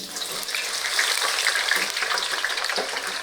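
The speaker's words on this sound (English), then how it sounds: "So we fry the aubergines at 180 in olive oil and arachido oil for about 2 minutes" Aubergines frying at 180 degrees in olive and arachido oil in a surface-top fryer, a loud, continuous bright sizzle and crackle up close, with occasional stirring and no voices.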